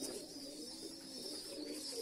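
A low, steady cooing comes from young down-face silver line pigeons close by, soft and continuous without pauses, with no voices over it.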